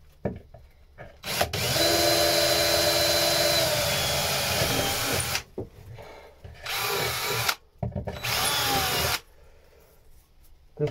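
A power drill runs in long bursts, driving through wood with stainless screws involved, each bout a loud, close, steady whine separated by short silent pauses.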